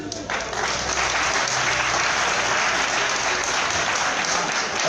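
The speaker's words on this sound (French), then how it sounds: "je voudrais vous demander d'applaudir très fort monsieur le directeur de campagne" Crowd at a political campaign launch event clapping loudly and continuously for the campaign director, a thick, even wall of applause with some faint voices mixed in.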